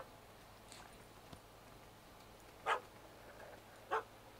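A dog barks twice, brief sharp yaps a little over a second apart, faint and somewhat distant over quiet ambience in The Witcher 3: Wild Hunt video game.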